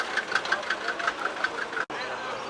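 A diesel car engine idles at a car market in Khujand, with a steady, rhythmic knocking clatter, close and fairly loud, briefly cutting out near the end before resuming.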